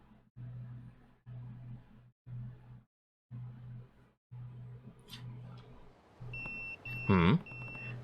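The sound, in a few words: pager beeping in the video game Yakuza 0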